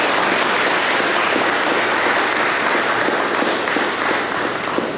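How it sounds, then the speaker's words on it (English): Crowd applauding at a search-and-rescue class graduation ceremony, a loud, sustained wash of clapping from many people that holds evenly throughout with no voices over it. "Let's have a round of applause for Bob"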